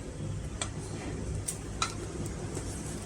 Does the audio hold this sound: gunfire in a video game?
no